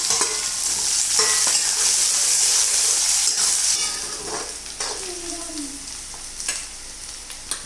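Onion sizzles and fries in hot oil in a pan with cumin, cinnamon, cloves, pepper, cardamom, bay leaf and red chilli for vegetable masala rice, a loud steady hiss with occasional stirring scrapes that eases slightly toward the end.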